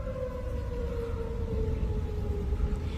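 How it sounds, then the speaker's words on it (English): Tornado warning siren wailing in a steady, slowly falling tone over low rumbling wind noise, distant but clear and continuous. "you can actually hear the tornado sirens and see the funnel cloud as it's making our way to our area"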